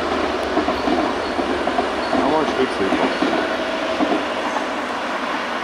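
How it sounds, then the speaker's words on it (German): A train runs along a railway line near a tunnel in a rocky valley, a steady rumble with rhythmic clickety-clack of wheels that rises in the middle, while someone speaks briefly over it. "jetzt habe ich mal den Zug gesichtet"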